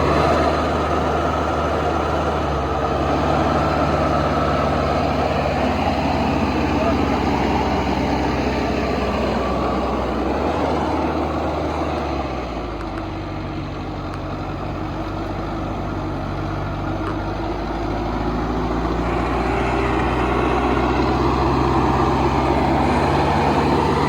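A Mahindra NOVO 755 DI 4WD tractor, almost new, pulls an 11-tyne cultivator through a field in medium gear, its engine droning loud and steady for the whole stretch with a brief dip in load midway.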